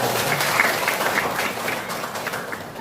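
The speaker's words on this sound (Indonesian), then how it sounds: "Boleh tepuk tangan dong buat yang" A classroom group applauds during a teaching session, a dense, steady burst of clapping from several people that holds at even loudness for about three seconds.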